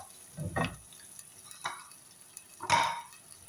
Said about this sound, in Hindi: ये देखिए चिकन भून रहा है